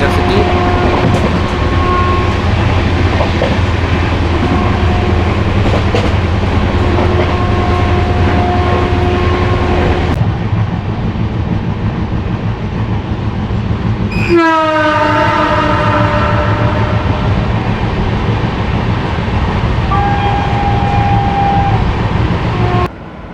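Agra Fort–Lucknow Junction Intercity 12180 train rolling steadily past a station, a loud continuous rumble of wheels with a long horn blast and a descending whistle-like tone midway.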